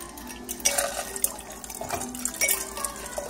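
Ice water poured carefully into a Dutch cold-brew coffee tower, a close, quiet trickle and splash with clinking ice and scattered drips.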